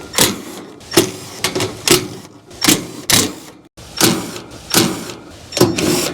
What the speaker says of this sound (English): I'm just going to use the Malco 5/16 bit to pull all these screws out.